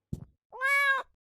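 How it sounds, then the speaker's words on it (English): A single cat meow from the video game Escape from Ever, a short drawn-out tonal call following a brief soft rustle, clear and alone. "we've got a cat over here"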